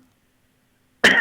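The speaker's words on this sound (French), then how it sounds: "il y a quelqu'un qui tousse" Someone coughs once, a sudden loud burst after a second of silence, heard alone and close during a phoned-in evening radio call-in show.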